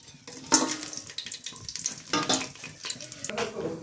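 Spices dropped into hot oil in a kadai while cooking vegetable pulao, with sharp sizzling bursts that flare up and die down several times, close and moderately loud.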